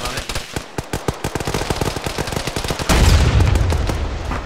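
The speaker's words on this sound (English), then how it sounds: "Harry's gonna take an AT shot on it." Rapid, loud gunfire rattles in a video game battle, then an anti-tank round fired at an MRAP lets out a heavier boom that rolls into a sustained, dense roar to the end.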